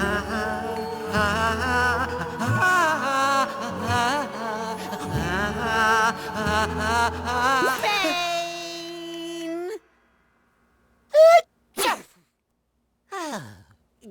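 A cartoon character sneezes after a stretch of music and voices; the sneeze comes as short, sharp bursts once the music stops, in a quiet gap.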